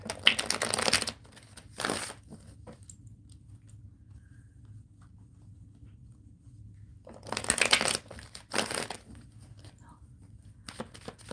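Two bursts of card shuffling, a riffling flutter then a quick snap, separated by several seconds of near silence.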